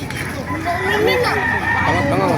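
A rooster crows amid the babble of a busy poultry market in Baliuag, Bulacan, the call rising over steady crowd noise and nearby talk.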